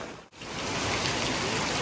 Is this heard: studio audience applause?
no